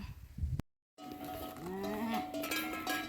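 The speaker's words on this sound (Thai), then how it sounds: "กำลังปล่อยงัวปล่อยควายไปหาเลาะเลี้ยงเนาะ" Cows and buffalo let out to graze, heard faintly from a distance as animal calls with a low drawn-out moo and clinking bells, after a brief gap of silence.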